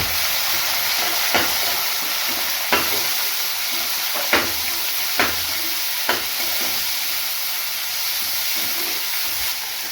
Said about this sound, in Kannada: ಕರಿಬೇವು ಫ್ರೈ ಆದಮೇಲೆ ಈರುಳ್ಳಿ ಹಾಕ್ಕೊಳ್ಳಿ